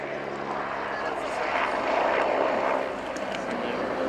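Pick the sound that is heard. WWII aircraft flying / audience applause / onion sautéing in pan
WWII aircraft flying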